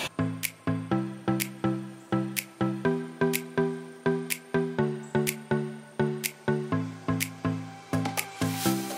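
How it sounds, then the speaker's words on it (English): A Mrs. Meyer peony scented multi-purpose cleaning spray is pumped about thirty times in a quick, even rhythm, each trigger pull giving a sharp, close, slightly squeaky spritz. "I'll go ahead and go in with the Mrs. Meyer peony scented multi-purpose spray, which smells amazing"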